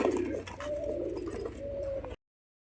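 Several pigeons cooing close by, soft rolling coos over a faint background murmur, ending in sudden silence.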